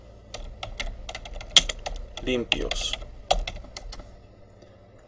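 Keys clatter on a computer keyboard as a file name is typed, a run of close, sharp clicks with a brief pause, alongside a short spoken word.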